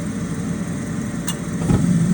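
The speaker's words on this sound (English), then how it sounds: "You'll usually hear it click when the gas turns on." A gas furnace igniter gives a single sharp click, then the burner catches a moment later with a soft, low whoosh over a constant mechanical hum.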